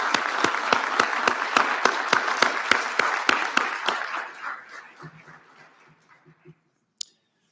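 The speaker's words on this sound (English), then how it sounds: "Graduates, please join me in giving your supporters and loved ones a round of applause." Audience applause at a veterinary white coat ceremony at the Atlantic Veterinary College, University of Prince Edward Island: dense, steady clapping for about four seconds, then thinning out to a few scattered claps before silence.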